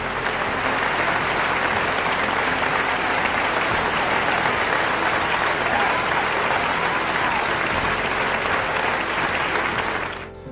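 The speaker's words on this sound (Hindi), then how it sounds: "सभी लोग खड़े होकर के इनके लिए तालियां बजाएं।" A standing audience at a felicitation ceremony for civil services toppers gives sustained, loud applause, an even crowd roar of clapping that carries on for about ten seconds before cutting off abruptly.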